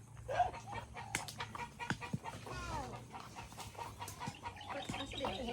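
Chickens cluck near a rural home under steady background noise and some soft, indistinct voices, the calls coming in short irregular bursts across the whole stretch.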